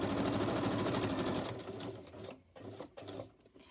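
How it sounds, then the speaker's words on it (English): A sewing machine stitching through paper runs in a fast, steady whir, then stitches in short stop-and-start bursts. "But if you're going straight, the sewing machine in theory will go straight."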